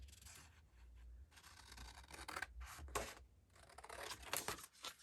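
Close-up scissors snip and slice through paper in several short, crisp cuts with brief pauses between them.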